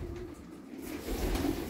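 Homing pigeons cooing in a loft, a low, rolling coo repeating close by and steady for the whole moment, with no talk over it.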